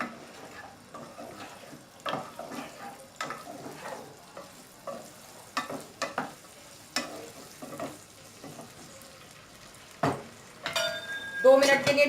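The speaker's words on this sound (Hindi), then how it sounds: "अच्छा, ये देखें, ये बहुत अच्छी सी फ्राई होना शुरू हो गई है, इस पे कलर आना शुरू हो गया।" Green chillies fry in half a cup of hot oil in a pan on a stove, giving a steady soft sizzle with occasional stirring clinks, under intermittent talk.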